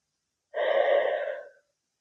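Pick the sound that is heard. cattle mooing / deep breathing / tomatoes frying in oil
deep breathing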